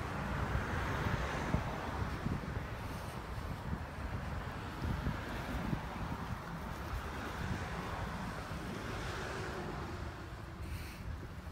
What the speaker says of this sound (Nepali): आज फेरि यो बाहिर यस्तो हावा ल्याइरहेको छ